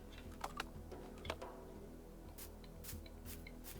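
Quick, irregular clicks of fingers typing on a computer keyboard, the keystrokes close and crisp, coming in short bursts with a few louder taps, no voices.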